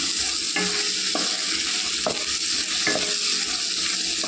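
Chili powder sizzling in hot oil for a prawn curry, a continuous loud crackle broken by a few sharp scrapes of a spoon stirring the pan, with no talking.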